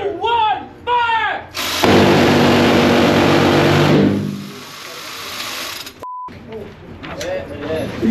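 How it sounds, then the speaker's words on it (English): Minigun firing at an outdoor Las Vegas shooting range: a loud, sustained buzzing roar of rapid fire lasting a few seconds, cut off abruptly, with people talking before and after and a short beep afterward. "Minigun! 3, 2, 1, fire!"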